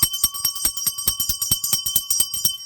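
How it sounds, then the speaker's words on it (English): A hand bell rings rapidly and steadily, bright metallic strikes repeating about five times a second, loud and close, with no talking. "I'm ringing the bell."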